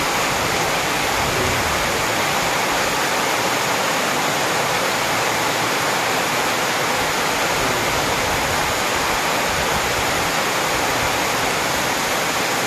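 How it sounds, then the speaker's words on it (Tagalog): Steady, loud rush of running water falling near a utility pole beside an unfinished wall with no gutter yet, a continuous broadband roar that holds unbroken throughout with no voices. "ano ko dito ng tubig guys."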